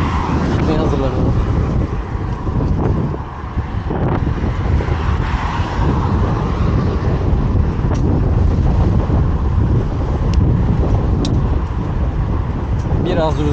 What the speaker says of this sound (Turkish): Biraz rüzgar esiyor, biraz.